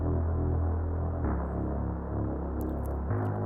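Reese bass from a synth in the intro of a bass house track, a thick, low, droning, throbbing tone that sustains alone and shifts pitch twice, with brief high ticks near the end.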